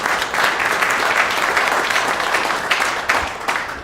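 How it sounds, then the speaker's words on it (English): A club meeting audience applauds steadily, a dense wash of clapping from a roomful of people lasting several seconds at fairly loud level. "Let's have a round of applause for"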